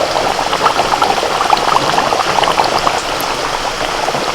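Country chicken curry with papaya and potato boils in a clay pot, a close, steady bubbling and gurgling that runs throughout with no voices.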